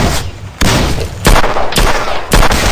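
In the Sierra 7 tactical shooter video game, loud close gunshots crack out roughly every half second to second, four or five bursts in all, each over a dense, noisy game soundscape.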